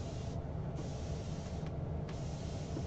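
A spray bottle mists distilled water onto paste to wet it, giving a continuous close hiss with brief dips between squeezes, and no talking.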